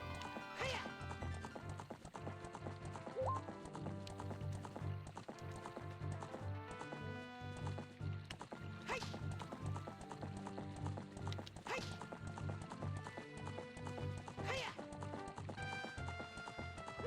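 A horse in The Legend of Zelda: Ocarina of Time gallops and leaps over fences, its steady clip-clop hoofbeats running throughout over continuous game music, with an occasional whinny.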